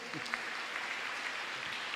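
Applause from a congregation during a Kikuyu church service, a steady wash of clapping filling the whole stretch at moderate level with no break.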